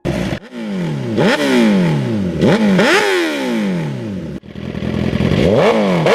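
A Suzuki superbike engine revs hard several times in quick succession, each blip climbing steeply and falling back, loud and close with no talk over it.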